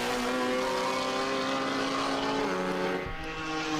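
Group N touring race car engine screaming at high revs near the finish of a circuit race, a loud sustained harmonic drone that holds steady before dipping briefly near the end.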